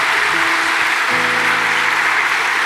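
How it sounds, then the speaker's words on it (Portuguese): A church congregation applauds at a Catholic service, a dense, steady wash of clapping with sustained keyboard tones sounding underneath. "dá uma salva de palmas a nosso Senhor Jesus Cristo"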